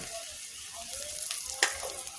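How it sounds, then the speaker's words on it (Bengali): Amaranth stalks go into a pan of frying onions and green chillies, a short continuous close sizzle with a sharper burst as they hit the oil. "পেঁয়াজ কাঁচামরিচ আমার ভাজা হয়ে গেছে, এখন আমি ডাঁটাগুলো দিয়ে দেব"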